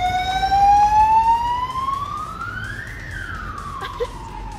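An ambulance siren wails along an Ibiza street, its tone sweeping slowly upward then falling back, loud at first and easing off slightly over a steady bed of street noise.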